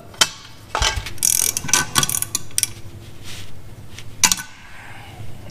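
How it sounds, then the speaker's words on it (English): Stainless steel screws and lock nuts being tightened while fitting a fishfinder graph mount on a boat deck, giving close, loud bursts of clicking ratchet strokes separated by short pauses. "I'm gonna start putting the stainless steel screws and lock nuts into it. Now I just gotta tighten those up."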